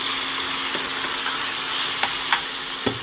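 Pumpkin and carrot fry in mustard oil with a constant loud sizzle, dotted by a few faint scraping stirs and clinks, with no voices.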